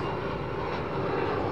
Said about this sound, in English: Japan Airlines, Boeing 787 Dreamliner